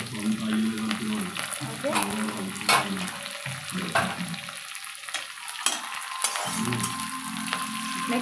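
Curry leaves crackle and sizzle as they hit hot oil for a tempering in a home-style cabbage, carrot and chana dal fry, a steady bright frying hiss with stirring clinks, and a voice briefly speaks over it.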